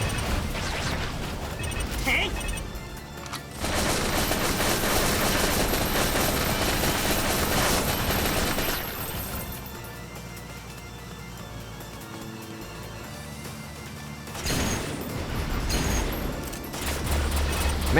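Rifle gunfire in the Baldr Sky action game, slow repeated shots in loud dense stretches separated by quieter spans, with background music and speech mixed in throughout.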